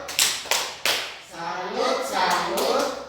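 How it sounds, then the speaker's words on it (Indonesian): A classroom group does a rhythmic 'tepuk salut' clap: three sharp, separate claps close by, then the class chanting along in unison. "Kita tepuk salut untuk Novi"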